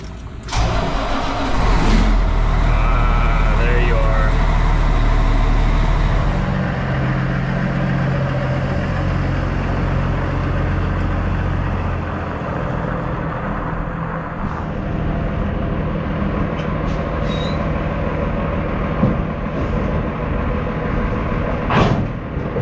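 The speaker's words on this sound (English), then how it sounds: "ready to start up Old Blue, let her warm up a bit" A semi truck's engine cranks and catches, then settles into a steady, loud low idle as it warms up, with a deep mid-frequency rumble running throughout.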